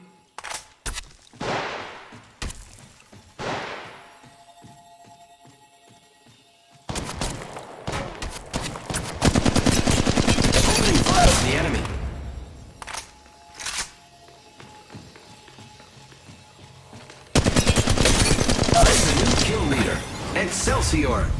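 Gunfire from the mobile battle-royale game Apex Legends Mobile, with bursts of rapid shots and sharp cracks coming in loud clusters between quieter gaps, mixed with game effects and voices speaking.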